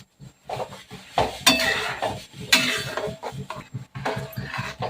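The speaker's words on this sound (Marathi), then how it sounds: "आता आपल्याला छान असं ढवळत राहायचंय जोपर्यंत आपला पाक तयार होत नाही" A spoon stirs sugar syrup in a pot for laddoos, with repeated metallic clinks and scrapes against the pot in an uneven rhythm, close and fairly loud.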